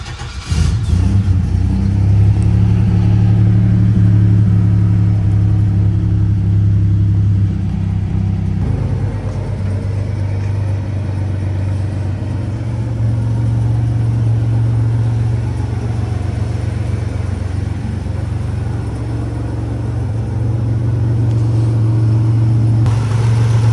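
A 1987 Buick Grand National engine starts and runs close by, revving hard at first before settling into a steady, deep rumbling idle that continues alone for the rest of the run.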